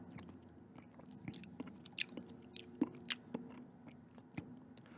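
Gum being chewed close to the microphone in an ASMR setting, soft wet smacking and clicking chews at an irregular steady pace, intimate and quiet with no talking.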